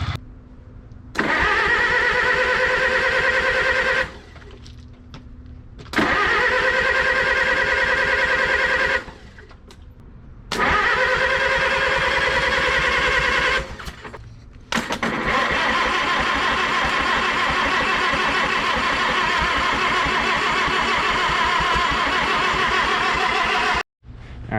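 An Oliver Super 55 tractor cranks repeatedly with oil-fouled plugs, the starter churning loudly in several long, evenly throbbing bursts separated by short pauses, with the final crank running longest but never catching.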